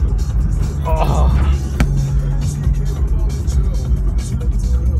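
Nissan Z32 300ZX sports car engine pulling hard under acceleration, a steady loud low drone from inside the cabin with occasional voices over it.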